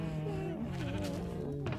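A single drawn-out sheep bleat from Minecraft, near and clear, with a wavering pitch lasting nearly two seconds.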